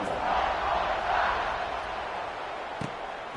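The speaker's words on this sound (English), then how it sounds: "this crowd is buzzing after that last score" A football stadium crowd roars and buzzes continuously after a touchdown, a dense broad wash of cheering voices heard from a distance, with a brief thump near the end.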